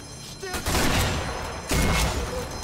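Sniper rifle shots in Sniper Elite V2 Remastered, two heavy booming blasts with rumbling tails, close and loud, in a wartime street battle.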